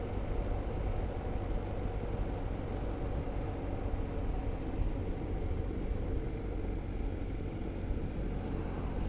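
BMW R1250 GSA motorcycle riding through a small village on a wet road, giving a steady wash of engine drone and road and wind rumble with no speech over it.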